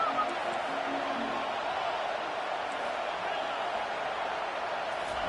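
Steady stadium crowd roar at an LSU game in College Football 25, a broad, even wash of distant voices holding at constant loudness without distinct cheers.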